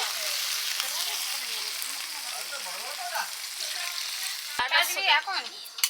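Mutton frying in oil over a wood-fired stove sizzles steadily, then water poured in near the end sets off a sudden louder, bubbling hiss, with faint voices in the background.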